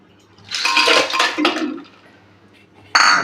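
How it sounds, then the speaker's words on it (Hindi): Ice cubes tumble into a grinder jar for a mint margarita, a loud clattering rattle of ice against the jar followed by a sharp final clink, close and with no talk. "अब हम बर्फ़ डालेंगे इसमें"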